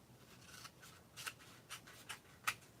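Scissors snipping through a scrap of paper during a craft project, several quiet crisp cuts spaced irregularly, up close in a quiet room with no speech.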